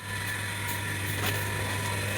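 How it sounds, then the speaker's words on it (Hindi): A loud motor running steadily with a constant droning hum and hiss, close by and unbroken, with no talk over it. "कितनी तेज आवाज़ कर रही है मोटर"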